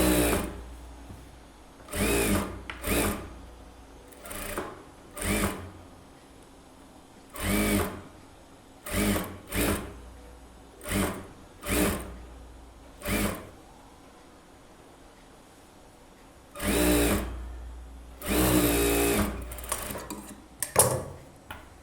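A sewing machine stitches along the lining edge of a 35-inch blouse in about a dozen short, loud whirring bursts separated by quiet pauses, close and without talk.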